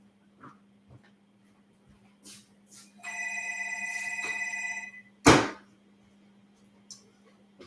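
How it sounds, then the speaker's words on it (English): Landline telephone ringing indoors in a home, a single sustained electronic ring lasting about two seconds, followed by a sharp knock or clunk, with faint room noise around it. "Sorry about the phone. I think I'm just going to let it go to the answer machine."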